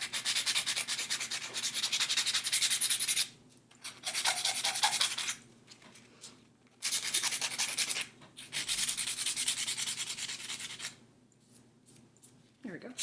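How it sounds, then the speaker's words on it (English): A buffing block is rubbed back and forth over acrylic nails, making close, scratchy rasping strokes in several bursts of a few seconds each, separated by short pauses. "use the fine side of your buffing block and buff everything down"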